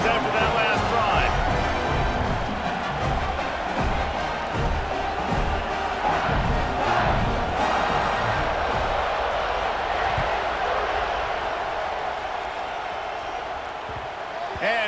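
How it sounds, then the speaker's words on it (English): A stadium crowd in a college football video game, an SMU dynasty, roars steadily through a kickoff. Loud, sustained cheering swells early and then eases a little toward the end, with commentary over it. "this crowd is feeling themselves after that last drive"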